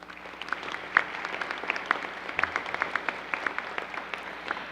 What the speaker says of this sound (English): If you could please give him a round of applause.